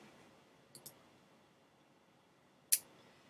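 A computer mouse clicks near the microphone: a quick pair of soft clicks, then after a pause one sharper, louder click, over faint room hiss.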